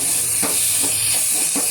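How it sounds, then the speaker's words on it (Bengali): Continuous hissing sizzle of okra frying slowly in a pan, close and steady, with a few soft periodic stirring sounds underneath. "এই যে আমি ভাজছি আস্তে আস্তে"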